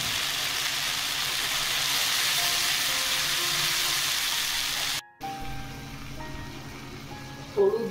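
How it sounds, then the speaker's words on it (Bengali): Mustard paste goes into a pan of katla fish already frying in oil, giving a steady close hiss of sizzling that cuts off briefly and then resumes more quietly with small pops and crackles. "সর্ষে বাটাটা দিয়ে দিলাম।"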